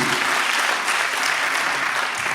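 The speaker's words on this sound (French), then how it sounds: "qui est ok avec ça par applaudissement?" Sustained applause from a conference audience, dense and even throughout, many hands clapping at once with no talk over it.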